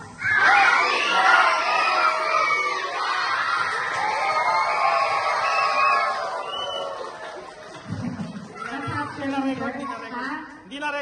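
Children at a seventh birthday party cheer and shout together in a loud, sustained burst of crowd noise, with whoops and screams over possible clapping, then thinner chatter and voices toward the end.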